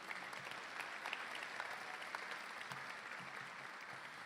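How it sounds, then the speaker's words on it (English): An audience at a collegiate honor society ceremony gives a steady round of applause, many hands clapping in a continuous, fairly distant wash. "Let's have a huge round of applause for those accolades to date"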